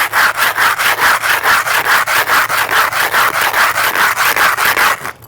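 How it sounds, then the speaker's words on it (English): An upside-down food can scraped back and forth on concrete, a fast, steady rhythmic grinding rasp repeating about four strokes a second, loud and close with no talking. "Take it and you rub it along the concrete."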